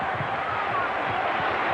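A basketball arena crowd at a 1984 Santa Clara–UCLA college game roars in a dense, sustained wash of cheering, heard close and loud beneath a commentator's voice.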